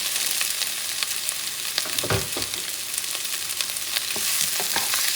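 Peeled shrimp frying in a pan for pancit bihon, a bright steady sizzle with scattered pops and a short burst of stirring in the middle, close and continuous, no talk.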